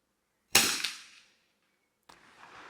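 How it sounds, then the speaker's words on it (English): A rifle fired in the prone position gives one sharp, loud crack that rings out and decays, followed about a second and a half later by a fainter, shorter clack. "as we can see here with this shot, the shot goes straight up quickly, but with Max, the re-aiming comes into play"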